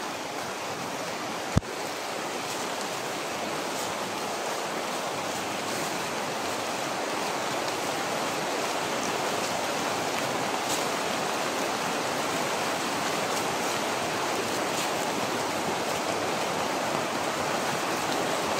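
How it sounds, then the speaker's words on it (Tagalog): Steady, dense rain falls in a constant broadband hiss that stays even throughout, with a single sharp knock early on and no speech. "Ulan na."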